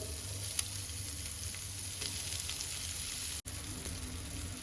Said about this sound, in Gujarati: વટાણાની પેસ્ટને સારી રીતે સાંતળી લેશું